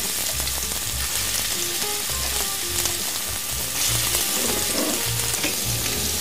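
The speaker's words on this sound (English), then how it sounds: "we wanna hear that sizzle when we put them down" Steady, loud sizzling of meatballs frying in hot olive oil in a pan, a continuous crackle filling the whole stretch, with no voices.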